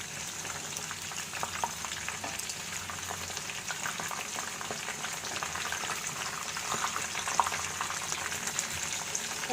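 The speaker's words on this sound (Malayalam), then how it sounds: "ഇപ്പോൾ ചിക്കൻ പീസസ് എല്ലാം ഒരു വശം നന്നായി ഫ്രൈ ആയി വന്നിട്ടുണ്ട്." Chicken pieces frying in oil for chicken Manchurian, a dense continuous crackling sizzle with scattered pops, steady and close throughout with no voices.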